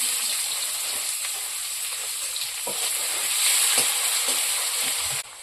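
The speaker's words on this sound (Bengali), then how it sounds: "পেঁয়াজটা একটু ভাজা ভাজা করে দেবো" Chopped onions fry in hot oil with bay leaf, whole cumin, whole garam masala and dried chillies, a steady close crackling sizzle broken by a few soft stirring knocks, with no voices.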